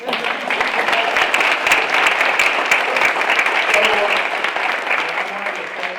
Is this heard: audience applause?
yes